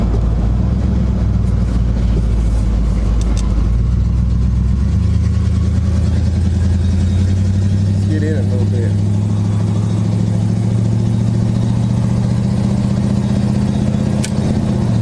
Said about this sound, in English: With that hole in the floorboard, you can hear all the exhaust.